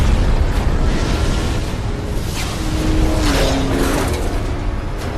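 A missile strikes a car in a Death Race action scene, a loud, dense roaring blast with rumbling low end that holds steadily throughout, no talk.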